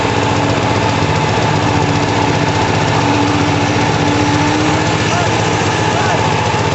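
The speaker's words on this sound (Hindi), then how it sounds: "वाइब्रेटर की मदद से कंक्रीट को पाइल केप के स्लैब की सतह पर पहुंचाया जा रहा है।" A concrete vibrator runs through a pile cap concrete pour at a bridge construction site, giving a loud, steady, close engine-like drone with no breaks.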